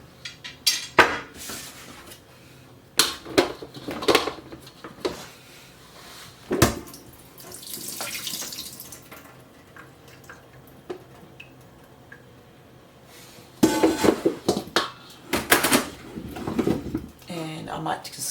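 Water drains off dry-canned potatoes with splashing and sink sounds, mixed with clattering pots and utensils in irregular bursts, while a person talks over it.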